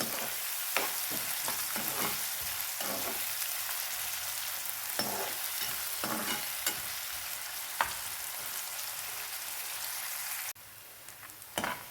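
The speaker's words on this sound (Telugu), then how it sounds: "ఈ ఉల్లిపాయలు, పచ్చిమిరపకాయలు బాగా గోల్డెన్ బ్రౌన్ వచ్చేంత వరకు వేయించుకోవాలి" Onions and green chillies fry in oil, a continuous close sizzle punctuated by periodic scraping strokes of a spatula, then the hiss drops sharply near the end.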